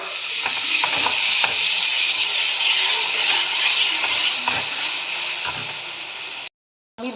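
Salted eggplant bharta mixture frying in a kadai gives a steady broad sizzle, broken by scattered scraping clicks as it is stirred. It stays close and continuous, then drops out briefly near the end.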